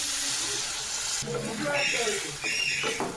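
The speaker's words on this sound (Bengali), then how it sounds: "এবার জল দিয়ে দিই" Water poured into a frying pan of potato and papaya for a paratha filling gives a loud, steady broadband sizzle and hiss that continues throughout, with a voice talking over the latter part.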